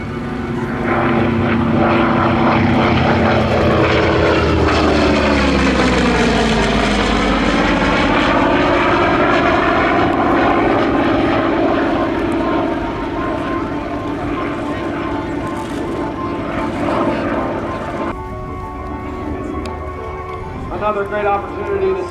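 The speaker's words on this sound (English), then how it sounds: "Photographers, lenses up, the Corsair is in from show right." Corsair propeller warplane passes at an airshow in Geneseo, NY: a loud radial-engine roar builds, peaks with a sweeping pitch shift as it flies by close, then recedes, with commentary over the top.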